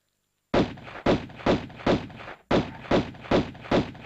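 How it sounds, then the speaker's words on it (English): Pistol fire aimed at crocodiles in Tomb Raider (1996), City of Khamoon level: eight sharp, loud shots in two evenly paced bursts of four, separated by a short pause, with no talk. "I'm going to get my pistols out"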